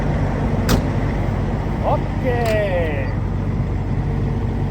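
An old farm truck's engine idling after starting up, ready to haul a bale trailer, a loud, steady low rumble throughout with a brief clank and a short spoken word over it.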